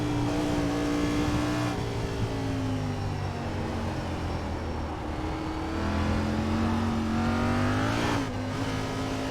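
Race car engine in a racing video game, a steady high drone that drops in pitch as the driver downshifts with heel-toe rev blips, followed by a rising engine note near the end, loud and close with no voices.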